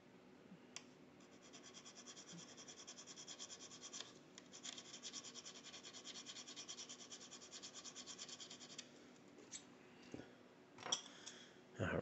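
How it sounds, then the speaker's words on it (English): A single high guitar fret is leveled by sanding, giving a steady, fairly quiet rubbing and rasping scrape that runs continuously with brief pauses, close by and without talk. "we're starting making our sanding or our leveling a little bit shorter in time and frequency."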